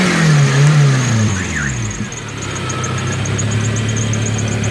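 A Nissan 240SX S13 engine idles close by, its steady mid-pitched rumble settling after a brief rev at the start, with a faint repeating tick riding over it and no talk.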